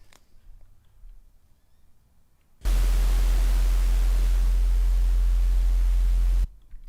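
A low synth note in a music production session with broadband noise layered on top, a loud steady hiss that switches on abruptly, holds for about four seconds, then cuts off, following a quiet stretch.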